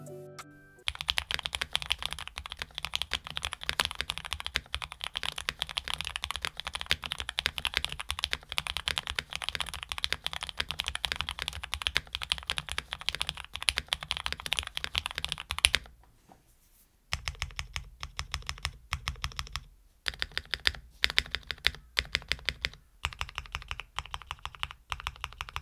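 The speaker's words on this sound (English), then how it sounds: "I thought I'd share with you the typing sound." Fast, continuous clacking on a custom mechanical keyboard, keys pressed in quick rapid runs, with a brief pause partway through before the typing resumes.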